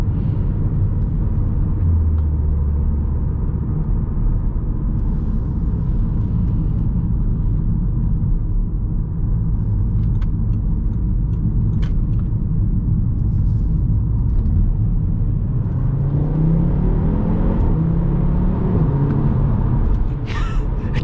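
An Audi RS3 8P engine rumbles low and steady, then revs and climbs sharply in pitch toward the end as it accelerates hard using launch control.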